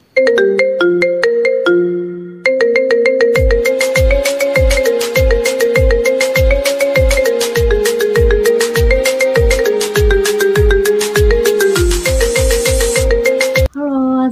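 A telephone ringtone plays loud and alone as a catchy electronic melody, with a steady repeating beat and bright tones running continuously before cutting off near the end.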